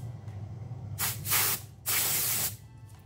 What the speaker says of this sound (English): Now we will use compressed air again